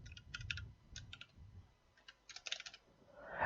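Clattering keystrokes on a computer keyboard while C++ code is typed, coming in quick clusters of taps separated by short pauses, close and fairly quiet with no voice over them.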